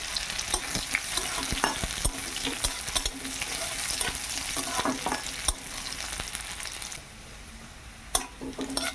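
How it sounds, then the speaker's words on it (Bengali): Onion tossed into hot oil with chili and panch phoron five-spice, a close crackling sizzle under frequent sharp spatula scrapes and clinks against the pan. "লঙ্কা আর পাঁচফোড়নটা ভালোভাবে ভাজা হয়ে গেছে, এবার পেঁয়াজটা দিয়ে দিলাম"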